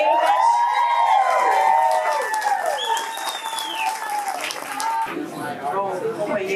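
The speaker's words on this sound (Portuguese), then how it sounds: "vamos já aplaudir, já chegar chegando o nosso companheiro Renato Freitas" A crowd at a political gathering applauds and cheers to welcome a speaker, clapping under loud excited voices and shouts that rise and fall throughout.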